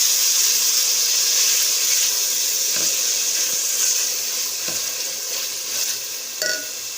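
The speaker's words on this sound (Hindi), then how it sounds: "इन सबको मिक्स करेंगे अच्छे से।" Chopped tomatoes, black pepper and pulao ingredients for an Afghani mutton vegetable pulao sizzle steadily in a pan, with a few light stirring scrapes and a brief clink near the end, no talk.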